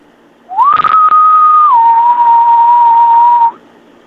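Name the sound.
imitated eerie whistle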